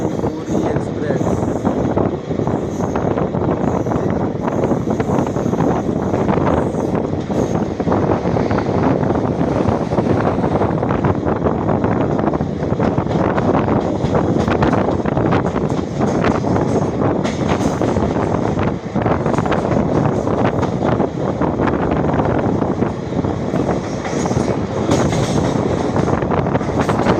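Tirupati Puri Express train running steadily, with a constant loud broadband rumble and clatter heard from on board, some wind buffeting, continuous throughout.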